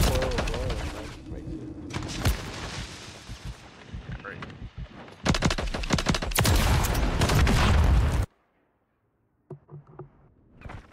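Call of Duty Modern Warfare III gunfire: dense rapid bursts of automatic weapon fire and explosions in heavy clusters, then a sudden silence followed by a few scattered shots, while players talk over it.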